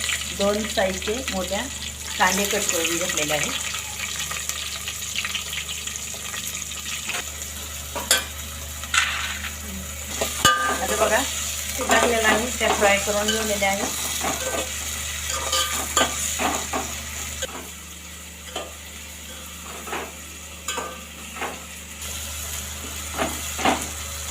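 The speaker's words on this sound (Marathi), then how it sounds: "शेंगदाणे आता छान असं फ्राय झालेलं आहे" Peanuts fry in a pan for Udgir-style masala bhat, a soft sizzle under spatula scrapes and stirring knocks, with someone talking over much of it and a brief splash of water.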